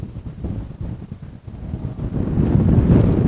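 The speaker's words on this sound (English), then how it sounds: "Whoa, a bit windy." Gusty wind buffets the microphone outdoors during a flight of a small Eachine Mini Mustang P-51D 400mm radio-controlled model plane, a low rumbling roar that rises and grows stronger toward the end, with no talking.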